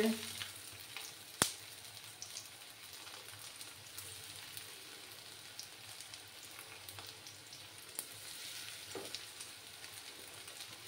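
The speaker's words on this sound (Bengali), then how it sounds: "আর তেলে ছাড়ার সাথে সাথে দেখো বন্ধুরা, সাবুদানাগুলো কিভাবে ফুলে উঠেছে।" Sabudana vadas deep-frying in hot oil over a low flame, giving a steady, moderately faint crackling sizzle with one sharp clink near the start.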